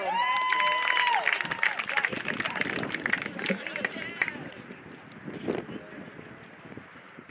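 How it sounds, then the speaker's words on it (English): Audience applause and cheering at a middle school promotion ceremony for the class of 2025, a broad crowd wash mixed with voices that gradually settles. "Let's give another round of applause to the class of 2025 and all of our awards."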